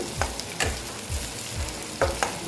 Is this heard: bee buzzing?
no